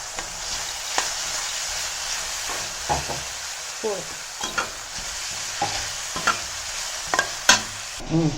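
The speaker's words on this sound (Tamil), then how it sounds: "இது நல்லா வதங்கட்டும்" Onions stirred and sautéed in a pan with oil for Schezwan fried rice, a steady sizzle under repeated scraping strokes of a spatula, close and moderately loud, without talk.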